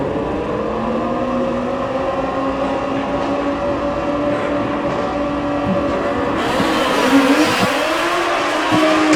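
A Kawasaki ZX-14R motorcycle making a drag racing run, a loud sustained engine roar with rising harmonic pitch as it accelerates, growing harsher and louder toward the end.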